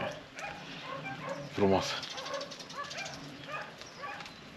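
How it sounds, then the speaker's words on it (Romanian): Dogs barking in a rural village setting around Easter, a loud burst of barks near the middle with more distant barking scattered through, under someone talking. "Acum latră câinii ăștia"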